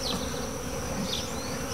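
Honeybees from a laying worker colony, a dense continuous buzz close by with individual bees whizzing past, no talking.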